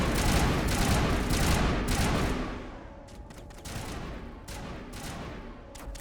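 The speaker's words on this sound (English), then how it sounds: "You guys are shooting at a wall." Dense bursts of gunfire hammer a wall in rapid overlapping volleys, loud and close at first, then thinning into scattered sharper shots as the barrage tapers off.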